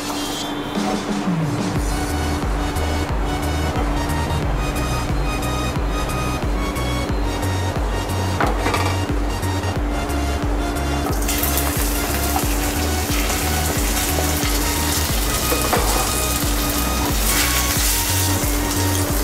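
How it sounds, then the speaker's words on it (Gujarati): Potatoes browning in a little oil alongside roasted peppers and onion, a steady loud sizzle and crackle running continuously with a constant hum underneath throughout. "પાછું થોડું ઓઇલ નાખી અને આપણે બટેકા આ જ રીતે બ્રાઉન થાય ત્યાં સુધી આપણે શેકવાના છે મિત્રો"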